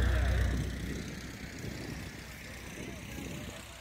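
An Aviat Husky airplane with a Continental A65 engine drones steadily, its low engine hum loud at first and then easing a little while it holds on.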